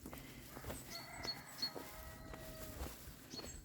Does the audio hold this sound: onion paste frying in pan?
no